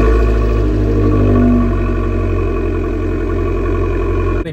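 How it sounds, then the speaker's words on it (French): Small Abarth hatchback idling through its Record Monza sport exhaust, a steady, loud, throaty drone with a deep rumbling burble that holds even and close, briefly swelling early before settling, with no talk over it. "Mais c'est vrai que le Record Monza, l'échappement spécifique, il est incroyable."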